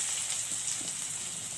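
Chopped large onions tossed into hot oil with popped mustard seeds, giving a steady, faint hiss and sizzle with no voices.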